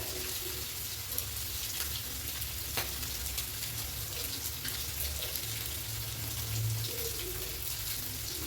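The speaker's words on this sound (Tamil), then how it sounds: "இப்போ நான் மத்தி மீனை போட்டுக்கிறேன்" Steady bubbling and sizzling of sardines simmering in a pot of Kerala-style fish curry, with soft continuous crackle and a few faint clinks, no talking.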